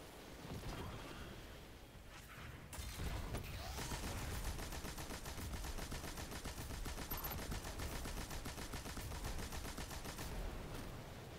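Rapid, dense gunfire from a magnum and other weapons in the sci-fi shooter game Destiny 2, a steady loud barrage of repeated shots filling the scene after a brief quieter start, with no talk.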